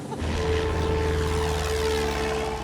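A light aircraft taxis on the ground in the Baie de Somme, its propeller engine droning steadily and loudly at close range with a low, even hum.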